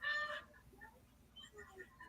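Chickens clucking in short, scattered bursts, with a louder burst at the start and fainter clucks trailing after it, close by with no talk.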